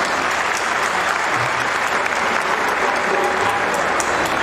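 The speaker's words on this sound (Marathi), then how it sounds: "तुमच्या टाळ्या जर तुम्ही छान वाजवल्या तर त्यांच्या लक्षात राहील" A large crowd at a Marathi theatre conference event claps in sustained, loud applause, many hands blending into an even roar.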